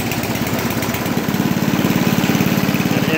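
An Ariens Deluxe 28 snowblower engine runs loud and close with a steady pulsing chug that firms up as the choke is taken off; no voices.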